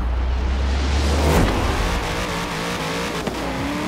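A car engine in the video game Forza Horizon 4 roars and revs steadily, swelling into a loud burst around the middle and then holding a strained, buzzing drone, close and prominent with no talking.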